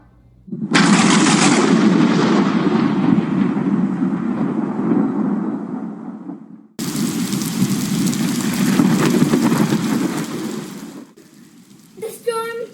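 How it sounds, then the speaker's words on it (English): A heavy thunderstorm downpour: a loud, dense, continuous roar of rain with rumbling, briefly cut off near the middle before surging back, then easing toward the end, where a short voice-like sound appears. "there was limitless rain, and every raindrop was coming down at a massive speed"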